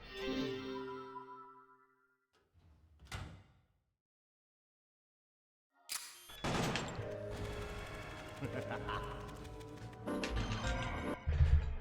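Gunfire in the action shooter Killer7 on PC, coming in dense bursts of close, loud shots after a near-silent pause, layered over game music and effects.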